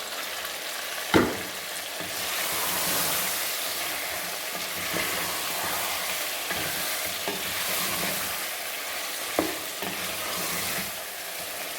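Whole spices, including green cardamom, cinnamon and cumin seeds, fry with chicken in a biryani pot, giving a continuous close sizzle with occasional sharp knocks and scrapes from stirring.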